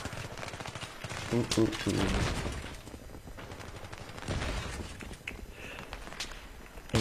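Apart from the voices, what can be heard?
gunfire from a G36 rifle in a video game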